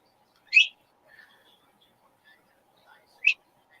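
Two brief, high chirps from a small bird, spaced a few seconds apart, with faint soft sounds in between in an otherwise quiet room.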